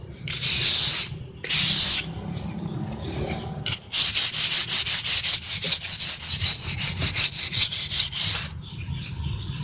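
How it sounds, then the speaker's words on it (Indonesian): Steady back-and-forth rubbing of 1000-grit sandpaper on finished teak wood, close and loud, in rhythmic strokes with a couple of short pauses. "Setelah di sanding pertama ini kita amplas lagi. Saya pakai amplas 1000"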